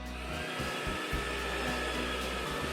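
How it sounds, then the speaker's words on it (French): A vacuum cleaner running indoors, a loud steady close whine and roar that holds almost without change, briefly dipping once near the start, with no voices. "L'ex parle à ta mère pendant que toi tu passes l'aspirateur."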